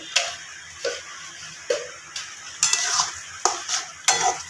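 Spice masala for stuffed pointed gourd dolma being stirred and dry-fried in a pan, with a spoon scraping and tapping the metal in regular strokes about every second over a low sizzle, close and clear.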